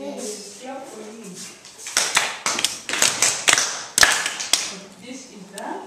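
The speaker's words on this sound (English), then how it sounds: "Clap for him." Schoolchildren in a maths lesson clapping for a pupil, a few seconds of close, uneven hand claps rising in a burst, with a voice speaking just before they start.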